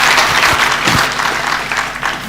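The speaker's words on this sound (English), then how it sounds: "give yourselves a round of applause right there." Students at a chancellor's town hall applaud in a loud, dense burst of clapping that holds steady throughout, with a few sharper individual claps standing out.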